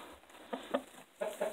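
Hen in a poultry coop with duck eggs nearby, giving a few soft, low clucks in short bursts close by in a quiet space.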